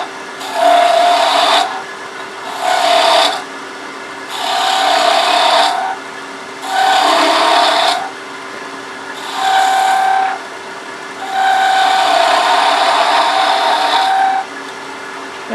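Wood on a lathe being cut with a homemade high-speed steel beading and parting tool while turning a chess king, six loud sustained cutting passes separated by short pauses over a steady motor hum.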